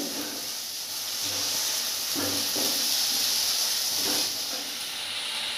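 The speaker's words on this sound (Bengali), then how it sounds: "ভালো করে মশলাটা কষে নিতে হবে।" Spice paste sautéed in a pan for katla fish rezala, a steady sizzling hiss with a few stirring scrapes, fairly quiet and without talk.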